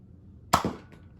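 An Adventure Force Hyperspin rotating toy blaster fires a single sharp, close pop with a brief mechanical clack right after.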